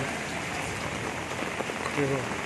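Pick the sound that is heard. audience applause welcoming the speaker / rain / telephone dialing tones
rain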